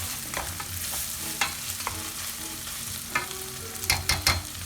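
Onions and pancetta frying in a pan, a steady close sizzle with occasional scraping stirs and light clatter, no talking.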